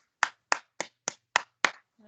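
A church congregation at a Thursday night prayer meeting claps six sharp, evenly spaced beats in a fairly quiet room, each clap crisp and distinct, ending with a brief faint voice.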